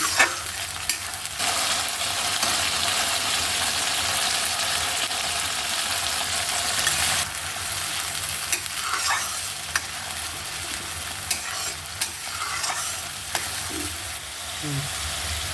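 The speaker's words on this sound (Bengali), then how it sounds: "পেঁয়াজ বাটাটা আমি দিয়ে দিচ্ছি, লঙ্কা আদা বাটাটাও দিয়ে দিলাম।" Onion paste and chili-ginger paste frying in oil with kalo jeera for Bengali tel koi, a continuous bubbling sizzle with repeated scraping stirs and occasional knocks of the spoon against the pan.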